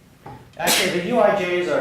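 A single sneeze bursts out in a physics lecture hall on quantum spin liquids, sharp and close, landing right over a lecturer's continuing speech.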